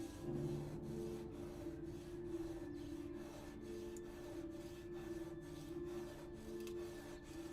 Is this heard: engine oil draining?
no